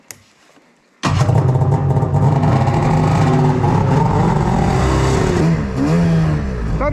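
A snowmobile engine starts up suddenly after a quiet moment, then revs loud and close with a steady droning roar, and its pitch shifts near the end as it pulls away.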